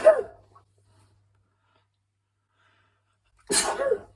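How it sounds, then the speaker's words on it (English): A single sharp human sneeze bursts out loudly at close range after a long stretch of silence, preceded by a faint brief sound at the start. "I'm going to sneeze."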